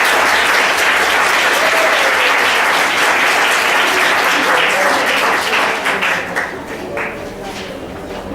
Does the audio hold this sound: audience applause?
yes